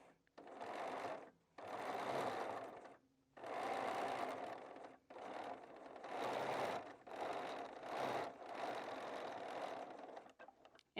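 A Bernina 990 sewing machine quilts with its stitch regulator, whirring in a series of fast bursts separated by short pauses as the fabric is repositioned.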